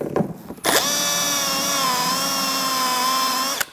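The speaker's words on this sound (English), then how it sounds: "I'm using a step bit or a unit bit, and I've marked it with a red marker where we need to stop." Power drill spinning a step drill bit to bore a 3/4 inch hole for a boom audio upgrade, a steady loud whine running about three seconds after a short start, with a faint click before and an abrupt stop.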